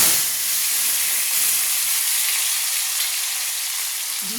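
Chopped tomatoes hit a hot pan in a chicken curry, giving a loud, steady steam hiss and sizzle throughout, close up, with a faint stir near the end.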